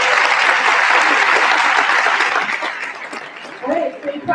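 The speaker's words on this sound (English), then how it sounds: "So please give a round of applause again for them." Conference audience applause, dense and loud at first, then thinning and fading after a couple of seconds as a few voices and light laughter come through.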